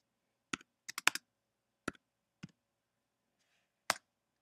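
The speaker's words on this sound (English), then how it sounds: "you're going to want to type that address in here on the client" Quick bursts of keystrokes on a computer keyboard, a few clustered clicks then isolated taps, close and clear in a quiet room with no talking.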